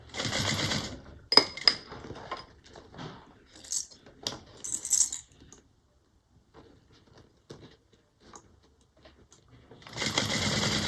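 A home sewing machine stitches a handbag in short runs, with a burst near the start and another at the end. Quiet fabric and thread handling fills the gap between them, and no one speaks.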